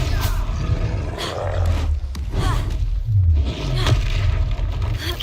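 An explosive Confringo fire spell from Hogwarts Legacy, heard as a deep booming blast and roar amid battle noise, with thuds and rumbling impacts over a few seconds.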